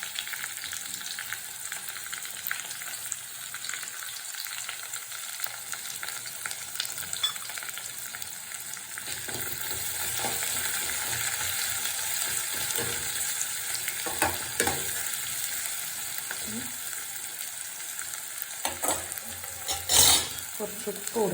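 Shallots, green chilli, ginger and crushed garlic fry in hot oil for rasam, giving a steady close sizzle throughout, with occasional scrapes and clinks of a spoon stirring the pan.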